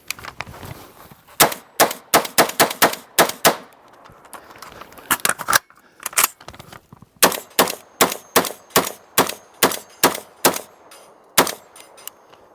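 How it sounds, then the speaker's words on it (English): Genesis 12 competition shotgun fired repeatedly at a steel dueling tree outdoors, sharp cracks each followed by a ringing metallic clang, coming in quick rhythmic bursts with short pauses, about two dozen shots in all. "So I've got a dueling tree over here. I'll shoot a couple rounds into it."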